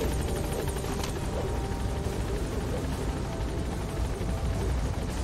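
A helicopter in the Metal Gear Solid 5 video game gives a continuous, loud rotor drone with a steady rumble, heard alone without talk.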